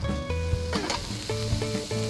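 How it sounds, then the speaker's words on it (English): Black trumpet mushrooms hit hot onion oil in a pan with a brief sizzle, short and close, mixed with tonal kitchen hums and clinks. "Beautiful plate of black trumpet mushrooms right to the onion oil."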